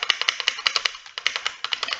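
Rapid clattering keystrokes on a computer keyboard, close and crisp, in quick uneven bursts with a brief pause midway.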